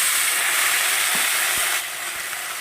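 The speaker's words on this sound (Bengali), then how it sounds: "এই পর্যায়ে আমি দিয়ে দেবো কেটে রাখা পেঁয়াজ টমেটো আলু আর লঙ্কা একসঙ্গে দিয়ে দেবো বন্ধুরা" Chopped onion, tomato, potato and chilli hit hot oil in a pan for a spicy tengra fish jhal, giving a loud, steady frying hiss that eases slightly partway through.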